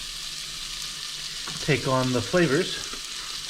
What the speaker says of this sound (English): I'm going to let this cook for a bit as the pepper starts to also soften